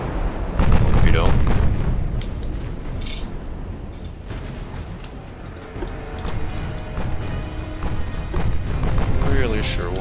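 A torpedo strike in a naval battle video game gives a deep booming explosion followed by rumbling, crackling battle noise and further distant blasts, with occasional talk over the din.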